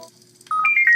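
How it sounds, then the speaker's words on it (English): A phone rings after a quiet moment, bursting into a loud, close electronic ringtone of bright repeating warbling tones that carry on to the end. "the phone went off again."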